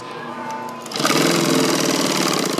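A sewing machine stitches a seam joining upholstery border strips, starting after a quiet moment and then running in a fast, steady, close mechanical chatter.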